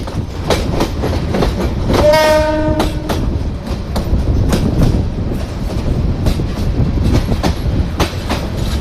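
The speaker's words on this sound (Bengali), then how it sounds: "রাতের বেলা আলোবিহীন মোহনগঞ্জ রেলওয়ে স্টেশনে প্রবেশ করছে মোহনগঞ্জ এক্সপ্রেস" The Mohanganj Express passenger train enters unlit Mohanganj railway station at night, with a steady, loud rumble and rattle of wagons throughout and one long, close horn blast partway through.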